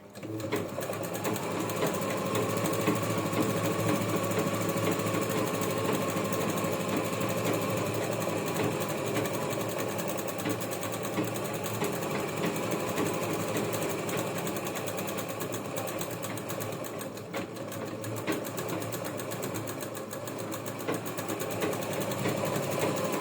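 A sewing machine stitches a bag made from a sari blouse piece, running in a fast, continuous mechanical whir with a steady rhythmic needle chatter, close and even, slowing briefly near the end before resuming.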